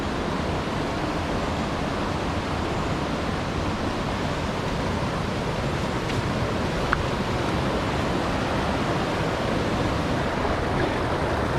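Water cascading over rocks in a clear stream, a steady, dense rush that stays even and close throughout with no voices.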